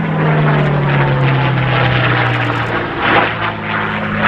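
A P-51 Mustang with a Packard engine flies at an air show, its loud, steady propeller drone and throaty engine hum continuous and close, pitch shifting slightly as it passes.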